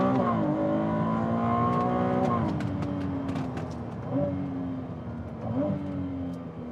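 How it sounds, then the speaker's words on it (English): A Ferrari 296 GTB's V6 revs loudly on an open road, pulling through several gear changes. Each shift briefly drops the pitch before it climbs again, and the engine sounds close and continuous. "Definitely has the sound that we always want out of a Ferrari."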